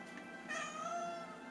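An indoor house cat lets out a single drawn-out meow, close and moderately loud, rising then trailing off over about a second, with no talk over it.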